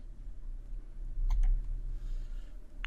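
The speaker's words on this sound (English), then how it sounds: "I'm just going to accept that and click Next." A computer mouse gives a quick pair of sharp clicks, close and crisp, over a faint low room hum.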